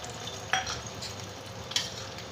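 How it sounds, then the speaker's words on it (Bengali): A mixture of egg, chopped tomato, chili, coriander leaves, onion and salt hitting hot oil in a pan, a quiet steady sizzle broken by two sharp utensil clinks. "তেলটা গরম হলে আমি এই যে মিশ্রণটা করে নিয়েছি, ডিম দিয়েছি, টমেটো কুচি, লঙ্কা কুচি, ধনেপাতা কুচি আর পেঁয়াজ কুচি আর নুন, এবার আমি এর মধ্যে দিয়ে দিচ্ছি।"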